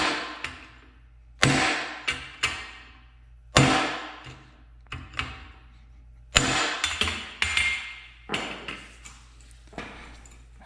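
Several sharp, separate metallic strikes from a tool seating a seal into a Dana 60 axle during a Super Duty axle swap, loud close-range hits spaced irregularly, each ringing briefly before fading.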